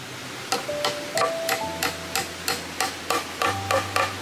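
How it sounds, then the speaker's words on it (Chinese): Iron nails being hammered into the joints of a wooden ladder, a steady series of about a dozen sharp, ringing blows at an even pace, close and distinct, with no talk. "再把处理好的木头组装到一起，使用铁钉在连接点进行固定。"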